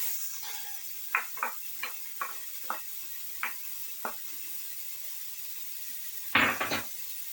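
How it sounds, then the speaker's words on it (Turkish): A series of short, dry clattering taps spaced about half a second apart, then a louder, denser rustling tumble near the end, as chopped dry onion is poured into a cooking pot; close and otherwise quiet. "Tenceremin içerisine bir tane doğramış olduğum kuru soğanı döküyorum."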